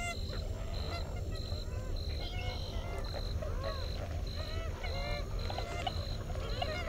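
A large flock of American coots calls raucously, a dense chorus of overlapping honking and squawking calls over a steady outdoor background.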